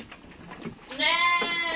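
A local fat-tailed sheep on a farm gives one loud, quavering bleat at close range after some quieter rustling and shuffling.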